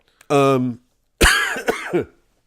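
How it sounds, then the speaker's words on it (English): A harsh vocal burst followed by a rough throat-clearing cough, loud and close, with a brief pause between them. "It was the cough."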